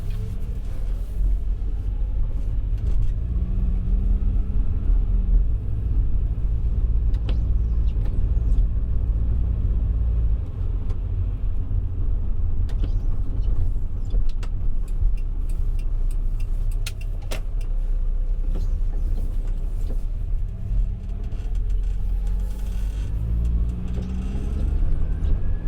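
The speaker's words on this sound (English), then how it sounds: "I'm going to go quiet because I want you to hear this auto box." Nissan S-Cargo van with an automatic gearbox driving on roads in Kent, a steady low engine rumble and road noise running throughout with gentle rises and shifts, near and continuous, no talking.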